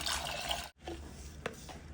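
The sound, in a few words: water poured into pot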